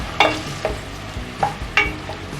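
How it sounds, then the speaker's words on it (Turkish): Sliced onions and garlic sizzle in hot oil in a pan as a spoon stirs them, giving a few quick scraping strokes over a low, steady frying hiss, close by. "Soğanlarımız biraz pişsin arkadaşlar yağda."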